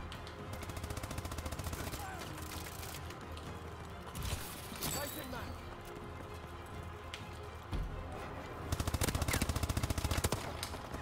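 Rapid automatic gunfire from a Call of Duty: Advanced Warfare match, bursts rattling loudly through most of the stretch with brief pauses and a heavy final barrage, mixed with in-game noise.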